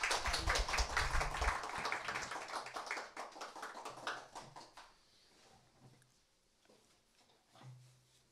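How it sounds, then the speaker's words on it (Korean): Audience at a lecture welcoming the speaker with applause, a burst of many hands clapping that fades after about five seconds into scattered claps and faint room noise. "박수로 환영해 주시겠습니다"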